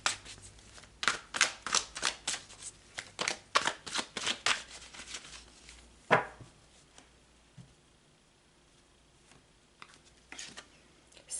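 Tarot cards are shuffled by hand, producing quick bursts of riffling and slapping with short gaps between them, then a few softer isolated card flicks, close and fairly quiet.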